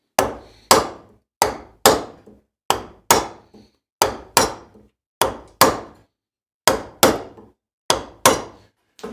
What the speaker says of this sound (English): So if you make a light chop, heavy chop.